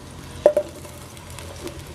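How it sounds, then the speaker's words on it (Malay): Diced potato, cauliflower and carrot are being half-fried in a pan, giving a steady, faint sizzle with two quick stirring knocks early on. "Kita goreng dulu bahan tadi macam ubi kentang, bunga kubis dan juga lobak merah"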